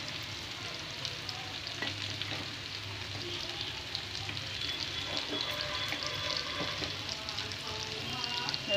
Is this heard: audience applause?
no